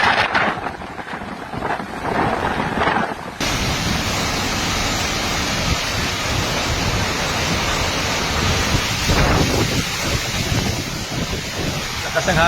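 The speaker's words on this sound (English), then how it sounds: "Lakas ng hangin mga idol, oh. Grabe ang lakas, oh." Strong typhoon wind roars in a loud, continuous rush during Super Typhoon Nando in the Philippines, buffeting the microphone with a steady broadband howl that swells and barely lets up, and a voice is faintly present beneath.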